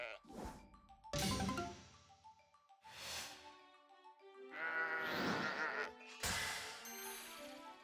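Sheep in the video game Little Town Hero bleat in a series of loud, wavering calls, about five of them spaced across the moment, with short gaps of near silence between.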